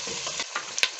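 Vegetables fry in a pan on the stove, giving a close, steady sizzle with light stirring scrapes and a brief clink near the end.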